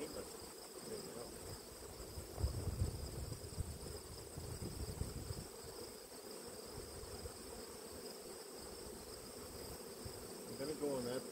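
A honeybee colony hums steadily inside an open hive, a dense, even drone of many wings with brief closer buzzes rising over it, and no talking.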